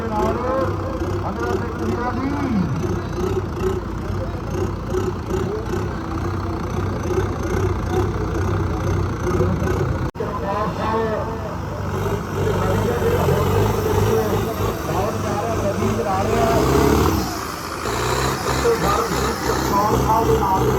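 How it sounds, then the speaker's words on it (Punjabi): An Indo Farm 3055 tractor with a faulty turbo at the Karkaur fair runs steadily with a loud, throbbing engine drone throughout, while people talk over it nearby. "ਮੁੰਡੇ ਦਾ ਨਾਮ ਰਵੀ ਆ ਜਿਹੜਾ ਇਸ ਟਰੈਕਟਰ ਦਾ ਪਾਇਲਟ ਹੈ"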